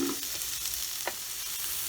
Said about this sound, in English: First you want to add the onions as they take a little bit longer to cook.